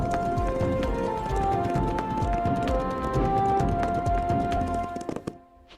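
Cartoon horses' hooves clip-clopping in a steady, loud rhythm on a plateau trail, layered with a musical score, fading out near the end.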